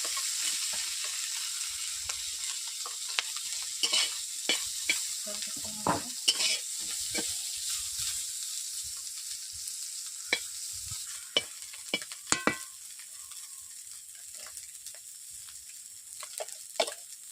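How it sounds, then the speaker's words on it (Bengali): Pre-fried salted fish is reheated in a wok, giving a steady bright sizzle broken by sharp scraping and stirring clatters from a utensil, close and with no talking. "মাছগুলোকে আমি এখন ভেজে নিচ্ছি, আর একটু গরম করে নিচ্ছি মাছগুলোকে।"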